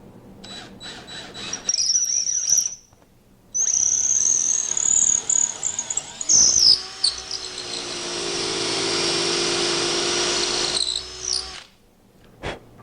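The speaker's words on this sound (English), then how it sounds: "I just need to drill these 3 holes right there until I hit the tape flag" An electric drill bores dowel holes in wood for a chisel cabinet, with short bursts and then a long steady whine as the bit grinds in, stopping between holes.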